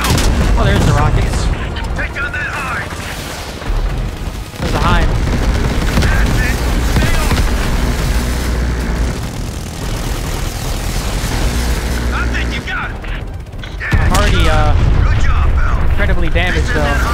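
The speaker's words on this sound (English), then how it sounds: "Who's shooting at me with rockets?" Rocket fire and explosions in Call of Duty: Black Ops Cold War, loud booms and gunfire bursts over dense battle noise, with voices speaking throughout.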